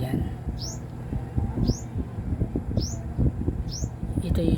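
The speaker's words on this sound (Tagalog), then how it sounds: "Ang ingay ni ibon. Ano ba songbird ang ingay mo?" Four short rising chirps from an F998 live sound card repeat at a steady pace, like an electronic songbird tone, over clattering handling noises nearby.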